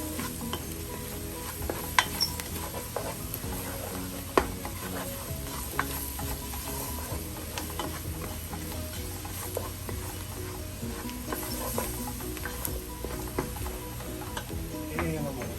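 A spoon stirs ketchup into meatball stew in a pot, soft scraping and clinking over a low steady simmer, with a few sharper taps against the pot.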